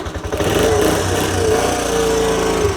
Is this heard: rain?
no